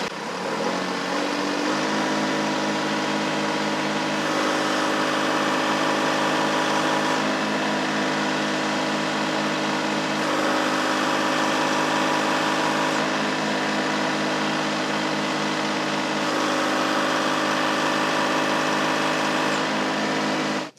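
A Kubota L3901 tractor engine holds a steady 2,000 RPM, a dense, continuous diesel drone with a strong hum that stays loud and close after a brief rise at the start, with no talking.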